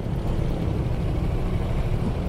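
A Yamaha GP Matic-style motor scooter engine drones steadily while riding on a road, a continuous low rumble with wind noise and no talking.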